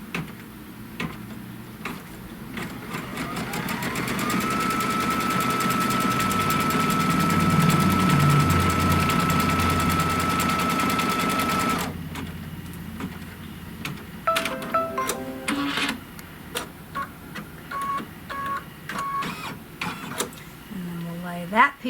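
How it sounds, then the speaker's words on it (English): An automatic embroidery machine stitches a placement line for a quilt block's bottom border, a steady close mechanical whir with a rising motor tone, then rapid ticking stitch clatter and short pauses. "So now it's going to stitch the placement line for the bottom border."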